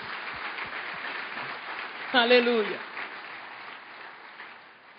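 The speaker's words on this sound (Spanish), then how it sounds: "Dale un fuerte aplauso al Señor Jesús." Church congregation applauding in a steady, broad wash of clapping throughout, briefly overlaid by a voice calling out in the middle before the clapping tapers off toward the end.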